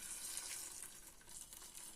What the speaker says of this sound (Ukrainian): Потрібно залити окропом